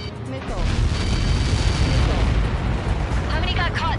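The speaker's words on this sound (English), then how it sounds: "How many got caught in that explosion?" A missile impact explosion in a PS4 video game, a sustained loud low rumbling boom filling the whole clip with crackling debris and game sound effects over it.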